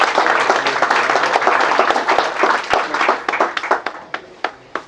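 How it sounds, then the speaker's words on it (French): An audience applauds loudly and continuously, a dense wash of clapping that thins into scattered, separate claps toward the end. "On applaudit pour notre maman."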